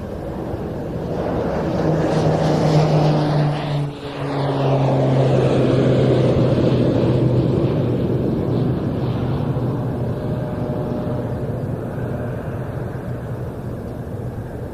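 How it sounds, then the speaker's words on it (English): A Pilatus PC-12NG turboprop of the Irish Air Corps' 104 Squadron rolls for takeoff at an airshow, its engine roar swelling and sweeping close past with a pitch shift, then holding loud before slowly easing off. "Now, though, on the roll from the Irish Air Corps, the PC-12NG, coming from 104 Squadron of the Irish Air Corps."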